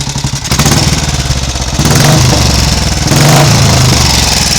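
Royal Enfield Bullet 350 single-cylinder engine running unloaded in a workshop, a loud, close, steady thumping idle with mechanical clatter and small swells in intensity, no voices.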